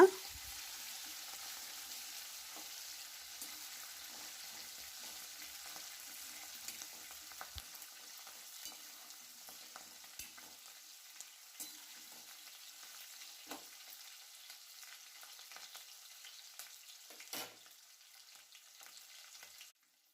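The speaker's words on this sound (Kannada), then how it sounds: "ಈರುಳ್ಳಿ ಎಲ್ಲ ಚೆನ್ನಾಗಿ ಎಣ್ಣೆಲಿ ಫ್ರೈ ಆಗಬೇಕೀಗ" Onions with curry leaves frying in oil, a faint, even crackling sizzle with scattered small pops and stirring clicks, steady throughout and without voices.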